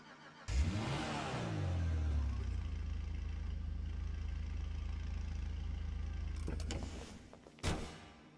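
The Futo GTX, a Toyota Sprinter-based JDM car in GTA 5, fires up with a sharp rev that settles into a steady, loud engine drone for several seconds, then a final quick blip; no talking.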